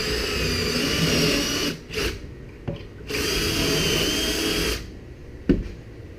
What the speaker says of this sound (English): drill a couple holes in it